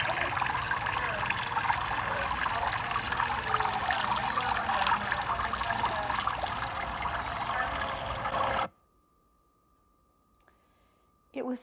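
Water feature trickling in a Tucson botanical garden, a steady close babble and splash of running water with clicking drips for most of the span, then abrupt near-silence broken by a faint tone before a brief burst returns.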